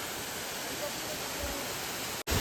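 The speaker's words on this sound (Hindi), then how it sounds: "यहाँ इस झरने के नीचे से निकलने के अलावा और कोई चारा नहीं है।" A waterfall on a Himalayan mountain trek roars as a loud, steady, broadband rush of falling water close by, with a brief cut near the end.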